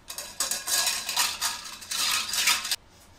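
A spoon swirls lemon lime soda into a mocktail in a glass, giving a few seconds of close, quick clinking and scraping against the sides before stopping abruptly.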